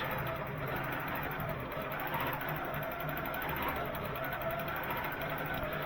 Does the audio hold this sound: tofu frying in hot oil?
no